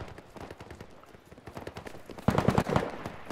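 Gunfire in the Roblox shooter Fireteam, a rapid string of fairly faint distant shots that swells into a louder, closer burst near the end.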